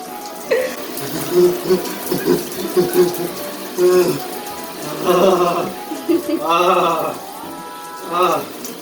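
Water splashes and runs steadily from a tap beneath excited voices talking and shouting close by.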